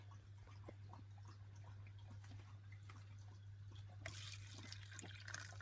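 Water poured into the water dish of a giant African land snail tank, a faint trickle and drip that turns into a brighter splashing pour near the end, over a steady low electrical hum.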